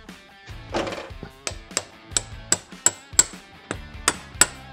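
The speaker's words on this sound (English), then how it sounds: "we are going to be doing some pounding, driving it in." A hammer strikes metal repeatedly, driving the front seal into a transfer case during reassembly; about nine sharp, ringing blows land at an even, steady pace, close and clear.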